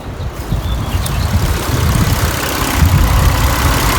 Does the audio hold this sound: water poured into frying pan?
no